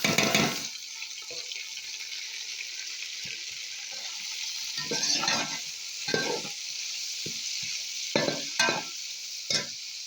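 Cauliflower and cabbage stir-fried with spaghetti and vermicelli noodles in a pan, a steady sizzle with scraping stir strokes and clatters recurring every second or two, fairly close and with no talking.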